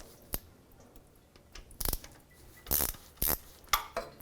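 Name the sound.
1/4-inch ratchet loosening transmission pan bolts on Dodge Dakota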